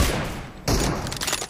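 Gunfire from an M24 sniper rifle in a PUBG team deathmatch, a sharp shot cracking out partway through a dense burst of game gunfire, close and loud.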